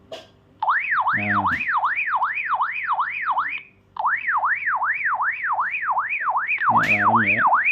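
A Baofeng handheld two-way radio sounds its siren alarm, a loud rising and falling electronic wail that cycles quickly. It pauses once briefly, and button clicks are audible around it.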